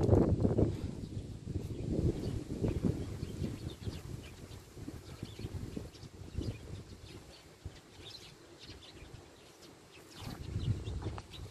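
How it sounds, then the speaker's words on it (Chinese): Sparrows chirp among tree branches at Shuijiaoshe in Tainan, Taiwan, a busy scatter of faint, high twittering over steady wind and outdoor rumble throughout. "这个鸟叫声真的很棒哎"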